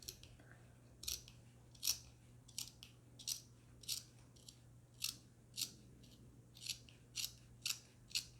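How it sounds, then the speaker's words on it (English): Scissors snip through the trimmed seam allowance of a sewn fabric seatbelt pillow, a dozen or so crisp, close cuts at a steady, unhurried rhythm over a faint steady hum, with no talking. "we're going to cut this seam allowance down"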